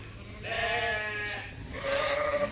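Gladiator ewes on a spring sheep farm pasture give two drawn-out, wavering bleats, the first long and the second shorter, fairly close and clear over quiet outdoor background.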